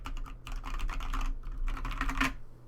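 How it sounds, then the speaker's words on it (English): Fingers type in bursts on a Boardsource Mk 65 mechanical keyboard in Space Grey with Susuwatari keycaps, giving close, crisp clacks in two runs with a short pause between them and no talk. "It makes such a dramatic difference in the sound of the keyboard what keycaps are on there."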